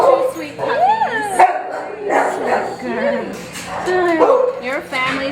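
Puppies at an animal shelter yip, bark and whimper in short, high, wavering cries close by, with a person talking over them.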